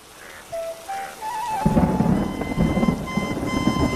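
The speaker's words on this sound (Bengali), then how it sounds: "এই বৃষ্টিতে গাছের নিচে দাঁড়িয়ে এভাবে ভিজছো কেন?" Heavy cartoon rain arrives with a thunderclap, starting with a few tones before a loud burst of thunder and a steady downpour drumming on surfaces.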